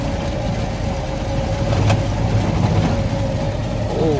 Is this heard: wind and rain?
no